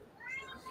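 A house cat gives a single short meow, soft and close, lasting well under a second.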